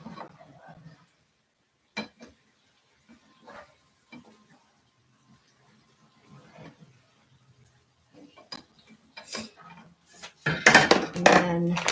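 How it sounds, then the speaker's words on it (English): A spatula scrapes and folds food in a frying pan with sparse clinks and scrapes, building to a burst of louder scraping and clattering against the pan near the end. "take your spatula and you go underneath it and you fold it"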